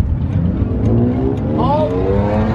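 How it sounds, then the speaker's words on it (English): A car engine revs loudly at a race track on a rainy day, with a rising and falling drone and a short upward sweep near the end, close by and with no talking over it. "Let's see if this car moves."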